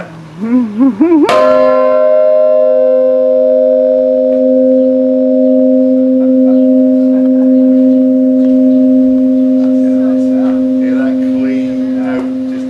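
A large church bell in a bell tower on Cape Cod strikes once after a few brief sounds, then rings on in a long, loud, sustained hum that slowly decays.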